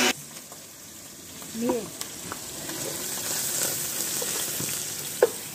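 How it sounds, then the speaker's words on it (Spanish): Chorizo frying in a pan for pork tinga, a steady close sizzle with light stirring clicks and a brief spoken word from a person over it. "Se está cocinando el chorizo, ya que se está cocinando."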